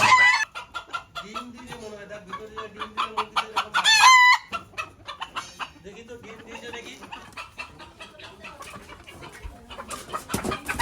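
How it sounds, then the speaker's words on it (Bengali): Household chickens cluck loudly and repeatedly at close range, with a brief rooster-like crow partway through, as the hens keep up a busy, uneven chorus. "মুরগিগুলো এত চেঁচায় ছেড়ে দেওয়া মুশকিল আছে"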